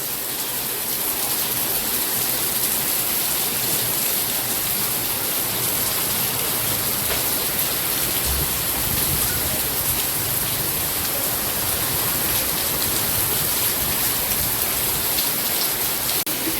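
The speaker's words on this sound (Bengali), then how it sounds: "আর বাইরে অনেক বৃষ্টি হইতেছে" Heavy rain pours outdoors in a dense, steady hiss that stays loud and constant throughout, with no voices.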